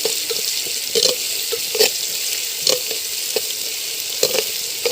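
Catla fish curry with mango sautéing in a clay pot: a steady, close sizzle and hiss, broken by regular soft stirring knocks and scrapes, with no one talking.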